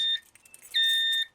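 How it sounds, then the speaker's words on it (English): A moderator alarm on a fire alarm system sounds two shrill electronic beeps, one short and one longer, loud and close with no talk. "It activates the moderator alarm, which is also set to 110 candela."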